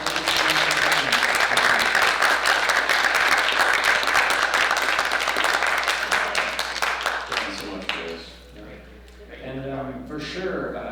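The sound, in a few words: audience applause at Star Trek panel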